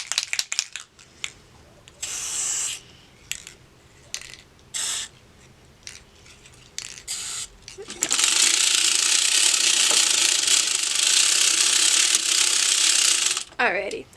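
Lubricant sprays onto a sock knitting machine in a long, steady aerosol hiss of about six seconds, close and fairly loud, after a series of short clicks and ratcheting bursts from the machine's mechanism.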